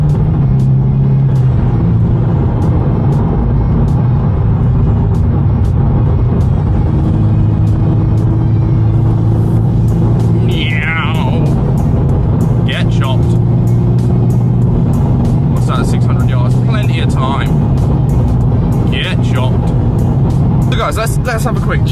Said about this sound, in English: If I just put my foot down now, the turbo builds and it suddenly just kicks and I climb speed so quick.